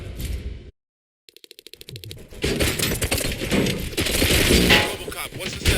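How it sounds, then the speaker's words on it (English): Rapid bursts of gunfire crackle and pop during a firefight in the RoboCop: Rogue City video game, a short staccato volley followed by dense, loud, sustained shooting and impacts. "Gunshots? What's going on?"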